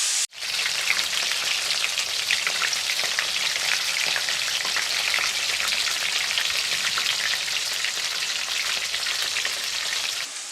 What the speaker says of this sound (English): So my ginger, chilli and garlic is cooking away nicely.